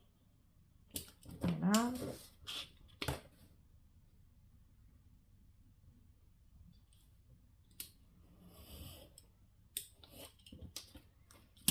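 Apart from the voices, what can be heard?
scissors cutting paper for scrapbook page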